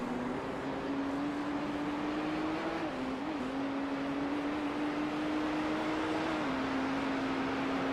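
BMW race car engine in a sim racing game at Bathurst, a steady loud droning engine note held at high revs that dips briefly at gear changes, continuous with no talking.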